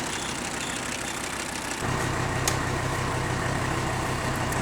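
An old diesel engine idles with a steady low chug and a faint rattle, getting slightly louder midway. It holds at a fairly quiet, even level, heard from close by with no talking.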